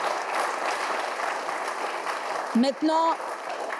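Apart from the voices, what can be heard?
audience applauding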